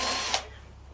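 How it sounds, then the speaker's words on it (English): Power-tool whir from removing the carburetor off a lawnmower, a loud burst that cuts off after about a third of a second, leaving a low steady hum. "First things first, let's take the carb off."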